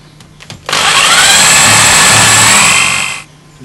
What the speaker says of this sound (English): we don't want to drill too deep